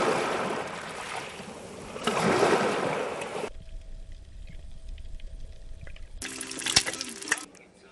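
Sea waves at the seaside wash and hiss in broad surges, loud near bursts broken by a quieter stretch, with a brief voice in between.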